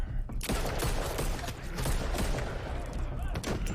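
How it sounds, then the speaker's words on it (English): Gunfire from the film Halloween Kills plays as a rapid burst of several sharp shots amid mechanical clatter, heard fairly faintly. "those gunshots should have been enough to put him down"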